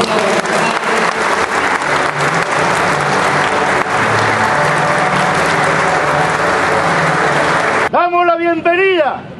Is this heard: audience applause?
yes